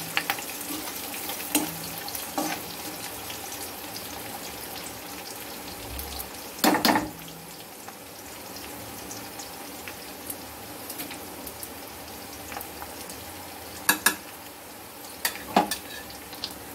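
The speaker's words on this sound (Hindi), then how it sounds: "अब हम इसमें शिमला मिर्च डालेंगे जिसको मैंने ट्रायंगल में कट किया हुआ था। इन सबको हम 5 से 10 सेकंड के लिए फ्राई करेंगे।" Capsicum cut into triangles frying briefly in a kadai for restaurant-style kadai paneer, a steady soft sizzle with a few sharper stirring clatters and spatters, close and alone without talk.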